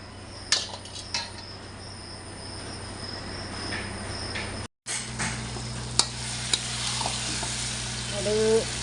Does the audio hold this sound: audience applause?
no